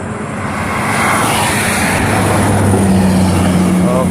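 A Sinar Jaya intercity bus passes on a Trans-Java toll road, a loud, steady engine roar and road rumble that holds throughout, with a low droning tone entering toward the end.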